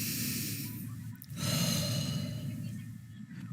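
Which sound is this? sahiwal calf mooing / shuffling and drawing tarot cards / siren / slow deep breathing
slow deep breathing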